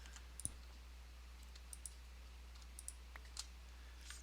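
Computer mouse clicking during a Minecraft session, faint scattered sharp clicks, a few single and double taps over a low steady hum, close and quiet, no talk.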